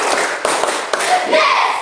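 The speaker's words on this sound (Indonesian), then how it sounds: "Ulang, tepuk 5." A group of teachers at a coaching session claps the five-beat pattern together, a few sharp, loud hand claps standing out over a steady wash of room noise and chatter.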